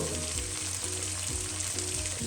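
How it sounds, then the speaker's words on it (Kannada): Onion, curry leaves, salt and a pinch of asafoetida frying over a medium flame, giving a dense, continuous sizzle with a faint rhythmic pulsing beneath it and no voices. "2 ನಿಮಿಷ ಮೀಡಿಯಮ್ ಫ್ಲೇಮ್ನಲ್ಲಿ ಫ್ರೈ ಮಾಡ್ತಾ ಇದ್ದೀನಿ"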